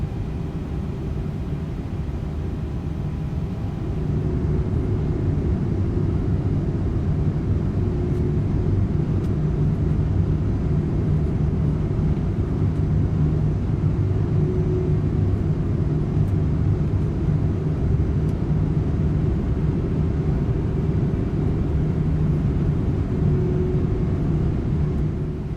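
A Boeing 747 airliner on a five-mile final approach to Miami's runway 26 left in a flight simulator gives a steady, loud, low engine rumble with a broad airy roar, unbroken throughout, and no voices.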